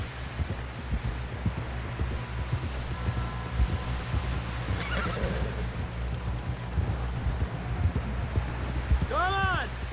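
Horse whinnies and clip-clopping hooves in Red Dead Redemption 2, a rapid steady hoof rhythm running throughout under music and voices, with a clear high neigh rising near the end.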